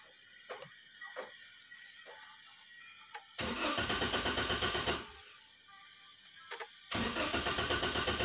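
A car's starter cranks the engine in two loud, rapid, chattering bursts, each lasting a second or more. Quiet clicks and faint ticking come before and between the bursts.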